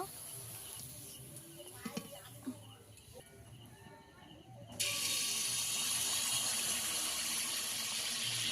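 Water poured into a pan while cooking a jaggery pitha, a sudden steady rushing hiss that begins midway and continues to the end, after quieter kitchen clinks and some talk.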